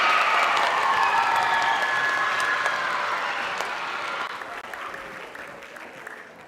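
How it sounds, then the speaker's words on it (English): Applause and some cheering from a school band winter concert audience for trombone and trumpet players, a steady wash of clapping with a tonal ring early on, gradually tapering off. "can you please clap it out for Miss Brianna and Mrs. Stella on trombone and trumpet,"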